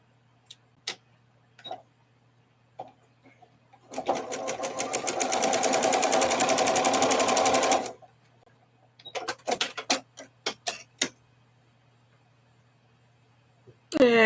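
A sewing machine stitching in a rapid, steady burst of needle clatter lasting a few seconds, bracketed by scattered clicks and handling taps, with someone speaking briefly afterward.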